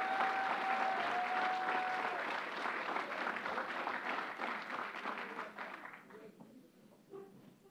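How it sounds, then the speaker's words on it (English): A big round of applause at a governor's gun violence bill signing, fairly distant and sustained, with a faint whistle early on, then thinning out to a few scattered claps at the end. "Let's give them a big round of applause."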